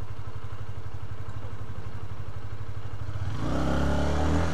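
A motorcycle engine on a Manila street idles with a steady throb, then revs up sharply near the end, loud and close, with no voices.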